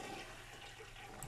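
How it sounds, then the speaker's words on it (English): Toilet flush in The Sims 3, a quiet, steady watery rush lasting a little over a second with no talking. "You need to flush it first."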